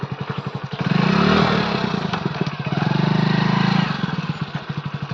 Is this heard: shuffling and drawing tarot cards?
no